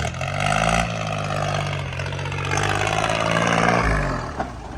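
A Kubota L3408 tractor engine fitted with a racing exhaust drones with a throaty, continuous roar close by. The level swells slightly around the middle of the clip before easing off, and no one speaks.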